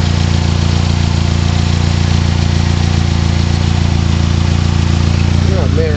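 A vehicle engine idles loudly and steadily close by, with a continuous rattling from a noisy transmission running through it; a voice briefly joins near the end.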